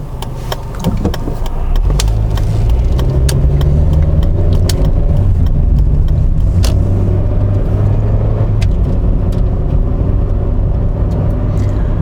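Car approaching and passing close on a road, a loud steady rumbling engine and tyre roar that swells and holds for several seconds, with no talking.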